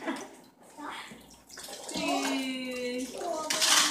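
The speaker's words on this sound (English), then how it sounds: "Let's see who can fill up this water pitcher." Water splashes and pours at a children's outdoor water table as a container is filled and squeezed, a steady wet gushing that swells louder toward the end, with children and adults chattering over it.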